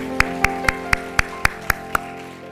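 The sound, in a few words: congregation applause in church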